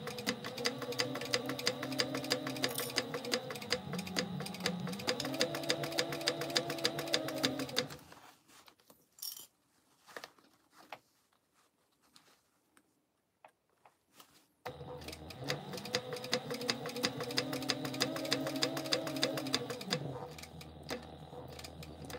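A sewing machine stitches along a seam in two sustained runs of rapid, steady mechanical whirring and ticking, broken by a quiet pause of faint handling clicks while the fabric is pivoted with the needle left down.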